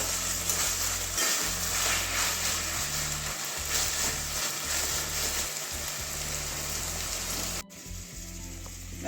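Taro greens with green chillies sizzle loudly in a frying pan while being stirred, a dense crackling hiss with brief scraping gaps that cuts off abruptly near the end.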